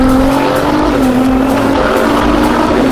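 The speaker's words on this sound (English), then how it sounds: "It's really a very powerful car. Slick tyres, cold slick tyres on a damp track." A powerful Formula 2 race car on cold slick tyres accelerates on a damp track, its engine a loud, steady, close roar with a rising pitch and no talk over it.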